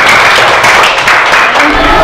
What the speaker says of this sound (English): Give applause for Radha.